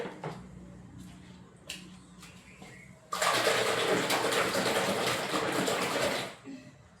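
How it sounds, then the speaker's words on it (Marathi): A blanket being washed in water with liquid detergent: quiet handling knocks and clatter, then a sudden loud rush of splashing, pouring water for about three seconds before it cuts off. "तर आता हे लिक्विडने धुवून घेणार आहे."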